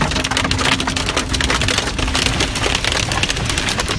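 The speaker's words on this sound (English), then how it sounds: "yesterday another afternoon blast of pelting rain" Heavy rain and hail pelt down during a Sydney afternoon storm, a loud, dense, continuous hiss of drops battering surfaces with sharp scattered impacts and no voices.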